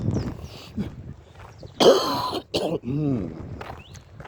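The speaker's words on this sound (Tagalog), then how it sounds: "May ubo na naman ako." A person coughs and clears their throat outdoors, several rough, close bursts spread unevenly over a few seconds, with one harsh loud cough standing out in the middle.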